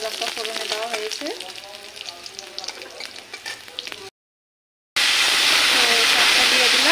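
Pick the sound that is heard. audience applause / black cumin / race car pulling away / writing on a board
black cumin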